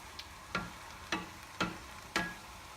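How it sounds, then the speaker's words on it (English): A spoon scrapes and knocks through beans and browned mince chilli in a pan, giving four or five soft, evenly spaced strokes over a faint low sizzle with no voices. "Stir the beans through."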